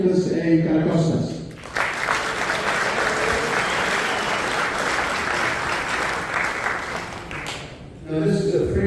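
Banquet audience at an Epiphany dinner in Safety Harbor, Florida, breaks into sustained applause lasting several seconds, with speech before and after it.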